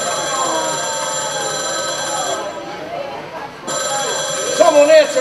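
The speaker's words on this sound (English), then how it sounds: "Someone answer that phone." A telephone rings repeatedly and loudly with a bright, bell-like trill, briefly dropping out in the middle before ringing again, with a voice starting up at the end.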